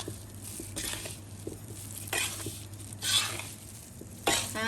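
Chili paste stirred in a pan for dried-fish nam prik narok, soft sizzling under repeated spatula scrapes in an uneven rhythm, several louder strokes standing out against a low steady hum; no voices.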